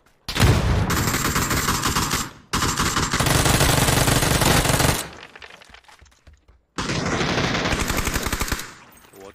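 Gunfire in a shooting video game: long, loud bursts of rapid automatic fire, broken by a short gap and a quieter lull before another burst, with voices faintly in the background.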